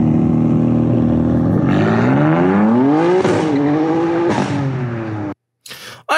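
An M4 engine revs hard and climbs in pitch through several gear shifts, loud and close. It cuts off abruptly near the end before a final burst.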